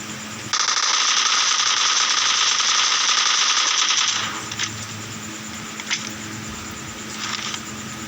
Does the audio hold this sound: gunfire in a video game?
yes